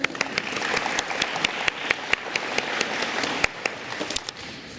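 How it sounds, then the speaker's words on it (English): A crowd claps steadily at a high school National Honor Society chapter induction ceremony, dense sustained applause with sharp individual claps standing out, fading slightly at the end. "Let's get another round of applause for him."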